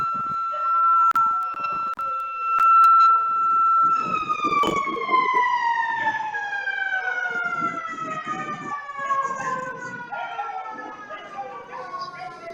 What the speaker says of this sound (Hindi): मेरे यहाँ थोड़ा सायरन बजने का रिवाज है